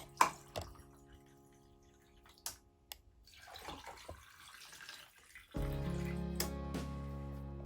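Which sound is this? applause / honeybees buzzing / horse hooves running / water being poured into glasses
water being poured into glasses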